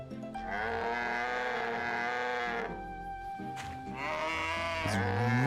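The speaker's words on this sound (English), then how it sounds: "These really loud cows." Loud cattle mooing in a farming video game, long drawn-out calls from several animals, one stretching over the first half and another rising near the end, over steady game ambience.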